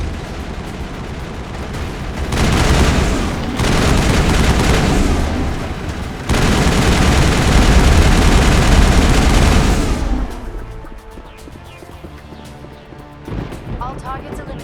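Heavy gunfire from a large mounted gun in Mass Effect booms in loud sustained bursts, pausing briefly and then cutting out, followed by quieter game ambience.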